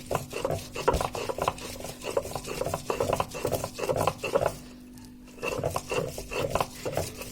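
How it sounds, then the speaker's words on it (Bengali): Coriander leaves are ground into a paste on a grinding stone, a rhythmic rasping and rubbing stroke repeated steadily at close range with a short pause midway. "এখন ধনিয়া পাতাটাকে আমি ভালোভাবে বেটে নেব।"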